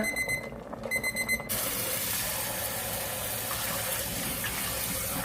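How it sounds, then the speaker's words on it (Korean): A kitchen timer alarm beeps in a quick repeated pattern for about a second and a half, then cuts out, leaving the steady rush of running tap water in a kitchen sink. "타이머를 맞춰 놨습니다 2분 30초가 다 됐군요"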